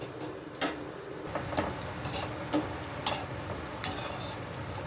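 Onion and garlic sautéing over a medium flame while being stirred in a pan, a soft sizzle under a series of irregular scraping and tapping strokes from the spatula, close and moderately loud.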